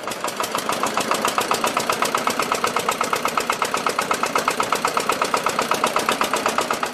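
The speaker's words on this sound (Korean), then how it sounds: "요란한 엔진 소리와 함께 출항 준비 완료." A boat engine runs after starting before departure, a steady rapid chugging pulse with even mechanical knocking throughout, close and fairly loud, with no voices.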